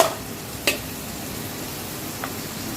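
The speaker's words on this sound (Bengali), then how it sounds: "এটাকে আরও একটু ভালো করে নাড়াচাড়া করে নিতে হবে" Food in a pan being stirred just after the lid comes off, a soft continuous sizzle with one sharp scrape early and a fainter one near the end.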